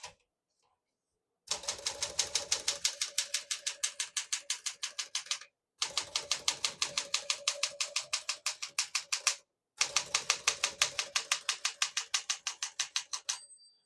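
Rapid, even keystrokes on a 1964 Smith-Corona Classic 10 manual portable typewriter clatter in three long bursts separated by brief pauses, close and crisp, with a faint margin bell ding near the end.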